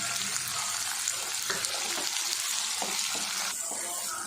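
Two cut tomatoes sautéing in a pan over softened garlic and onion for an eggplant curry: a continuous bright sizzle, broken by a few scraping stirs.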